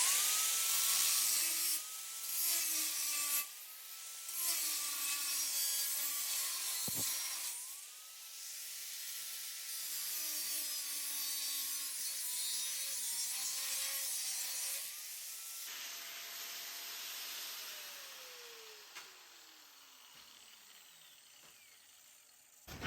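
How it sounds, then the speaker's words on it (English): Metal deer skull mount hanger being cut with a power tool, a loud whining grind with pitch shifting as the blade bites, broken by short pauses, then spinning down to a quieter fading whir. "I'll come back and cut the other side and then cut it away"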